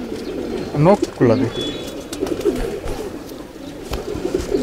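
Racing homing pigeons give a couple of close, throaty coos in quick succession while someone talks nearby.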